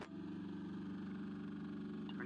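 A roller tamper compactor's small engine idles steadily, a low rumbling drone with no talk, lasting about two seconds.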